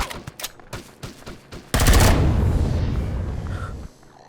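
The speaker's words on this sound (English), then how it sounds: "It is shooting me! It's got a minigun too." Minigun fire in the video game Empyrion, a brief scattering of short shots that gives way to one loud sustained burst of rapid gunfire, which tails off into a faint hum.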